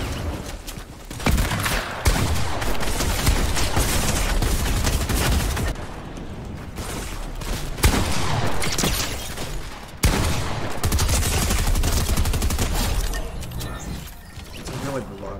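Dense, continuous video game gunfire from Fortnite rattles in rapid overlapping bursts for the whole stretch, loud and busy, with a few brief dips and a voice talking underneath.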